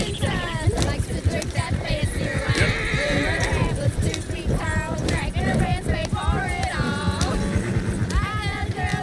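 A horse in the video game Red Dead Redemption 2 whinnies several times amid clip-clopping hooves, a busy in-game mix with other voices and movement in the background, the neighs standing out in short rising bursts.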